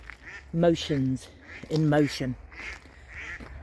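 Several ducks quack in short, nasal bursts, two clusters of loud calls close by, followed by softer quacks.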